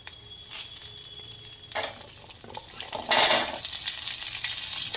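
Onions and curry leaves fry in a pan of oil for beetroot chutney, a steady sizzle with stirring scrapes that swell louder partway through, close and with no talking.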